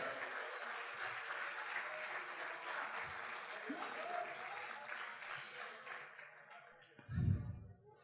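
Congregation applauding at a Spanish-language worship service, steady clapping that gradually thins out, ending with a low thump near the close.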